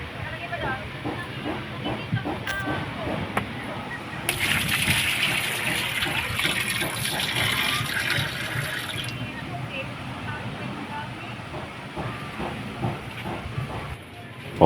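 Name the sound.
water poured onto a Sharp washing machine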